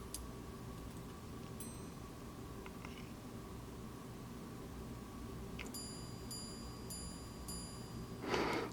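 A Patek Philippe 5078P platinum minute repeater watch chimes with a few clear, bright struck tones spaced at a slow cadence over a quiet, steady background hum.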